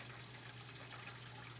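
Water drains steadily out of a Whirlpool dishwasher that had not been pumping out, a continuous faint splashing gush with a low steady hum underneath, with no voices.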